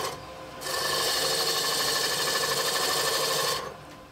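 Wood lathe turning four wooden toy wheels at once on a pen mandrel, cutting them down to 2 3/4 inch diameter: a steady rasping, scraping hiss lasting about three seconds, then stopping.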